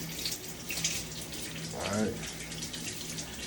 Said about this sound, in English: let a little bit of water run on it so we can get some of that blood and stuff just off already